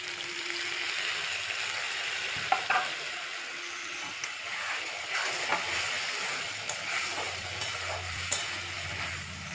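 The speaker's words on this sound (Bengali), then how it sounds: "ভালো করে মশলাটা আমি কষে নেব।" Spice paste being sautéed in a pan for katla fish kaliya, a continuous sizzle and hiss with occasional scraping and knocks from stirring, moderate and steady.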